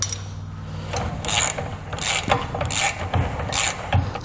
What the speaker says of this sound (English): now we go ahead and tighten these two bolts up here using a 14mm wrench